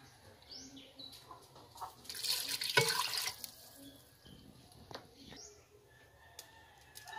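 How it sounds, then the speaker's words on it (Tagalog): Water pours from a tap into a pot for chicken sinigang, a brief splashing rush at mid-clip amid quiet kitchen sounds and faint drips. "ngayon, ang gagawin natin, lalagyan natin siya ng tubig"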